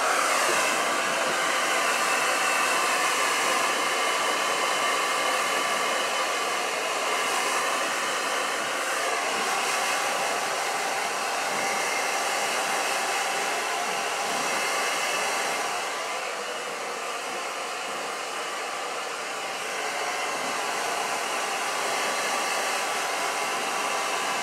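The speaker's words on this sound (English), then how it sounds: "everywhere that you put the dry shampoo, you're going to blow dry it" Hair dryer blowing continuously through hair treated with dry shampoo, a loud steady broadband whoosh with slight shifts in tone as the airflow moves, lasting the whole stretch with no talking.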